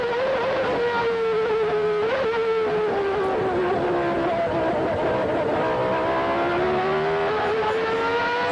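Ayrton Senna's Formula One car lapping Suzuka, recorded onboard: a loud, continuous high-revving engine scream that rises and falls through gear changes and throttle lifts, dominating the whole stretch with no talk.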